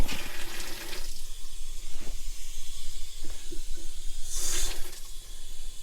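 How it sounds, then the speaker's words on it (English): Steady hissing rush of water flowing through an RV hose line, with occasional soft clicks and a brief louder spray burst near the end. "you can see the water's flowing pretty good here"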